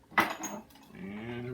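A metal socket is picked out from among metal tools during a Snapper rear-engine rider rebuild, making one sharp close clink followed by a brief faint rattle.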